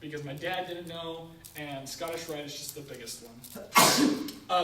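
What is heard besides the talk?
sneeze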